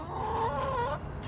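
Chickens cluck inside a wooden-framed chicken tractor with a half tarp, a single drawn-out, throaty call rising and falling over about a second, fairly close and clear.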